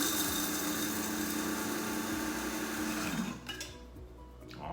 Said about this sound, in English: I'm going to put that in my grinder here. I'm going to grind up my nuts.